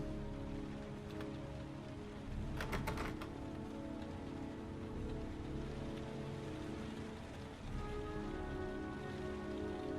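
Rain in the video game Heavy Rain falls steadily on surfaces, a soft continuous patter with a brief cluster of sharper drips or taps near the start, fairly quiet and with no talk.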